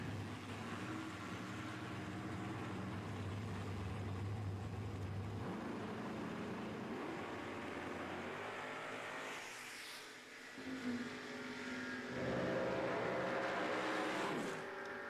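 Drag race cars including a Camaro at a door car challenge event, with engine roar sustained across the run, a steady low drone at first and then shifting, rising tones as cars accelerate away.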